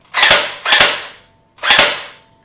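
Airsoft gun test fired indoors: three sharp, close, loud cracks, the first two in quick succession and the third after a short pause, each with a brief decaying tail.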